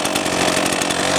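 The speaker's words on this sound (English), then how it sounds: "Now that I got the chainsaw started, I did put the brake on." A Redmax GZ400 chainsaw idles steadily right after starting, with the chain brake engaged: a loud, close, continuous buzzing engine drone with no talking.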